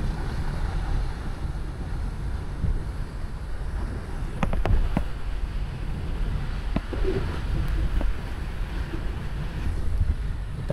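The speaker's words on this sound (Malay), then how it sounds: "Laut masih yang kuat, tak ada tanda-tanda macam dia nak slow pun." Strong storm wind buffets the microphone over a rough sea at a kelong, a dense continuous roar of gusts and surging water with occasional knocks and creaks.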